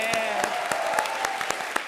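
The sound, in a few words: applause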